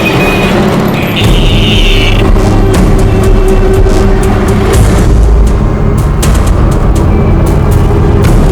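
A car pulls away under loud, steady engine rumble with low booming, the motor note rising briefly near the start and holding close and continuous throughout.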